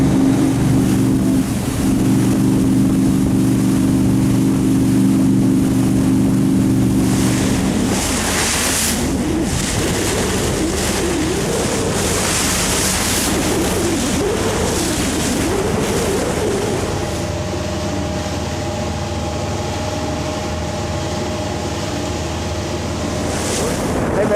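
Steady low rumble of a boat motor with wind and water rushing past, continuous and fairly loud throughout, shifting in tone partway through.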